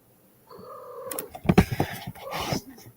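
A cat yowls and caterwauls in a drawn-out, wavering cry that starts quietly, swells into loud, close bursts midway, then trails off, heard alone without speech.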